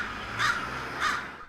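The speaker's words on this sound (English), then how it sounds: "Crows, mysterious creatures perching on telephone wires, foraging for food, and always making their presence known." Crows in Portland give two harsh caws about half a second apart. The calls are moderately distant over a low background hum.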